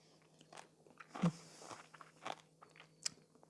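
Crunchy homemade sauerkraut is bitten and chewed close up, giving a few sharp, crisp crunches followed by softer chewing, fairly quiet and heard alone.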